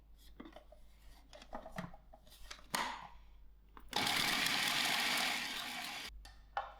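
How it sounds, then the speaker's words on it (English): A food processor whirs loudly for about two seconds as it grinds roasted chilies, preceded by clinks and handling of the machine. "To my food processor, I'm gonna firstly put my roasted chilies and give this a quick grind."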